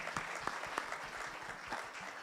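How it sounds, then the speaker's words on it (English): A conference audience at a cybersecurity event gives a modest round of applause, distinct claps fairly sparse and uneven, as from a small to medium crowd. "let's give them a round of applause as a way of welcoming them."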